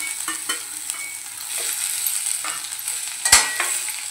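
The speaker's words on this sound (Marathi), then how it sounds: "आता लगेच आपण उकळलेल्या बटाट्याच्या ज्या फोडी करून घेतल्या ते घालून घेऊया" Boiled potato pieces stirred in a frying pan for a yellow batata bhaji, giving a soft continuous sizzle broken by several scraping spatula strokes and one sharp clack near the end.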